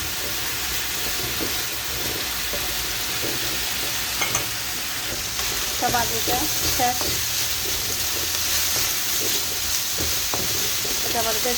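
Potatoes frying in a pan give a steady broadband sizzle with a few scraping stirs through it, near and continuous, with no one talking.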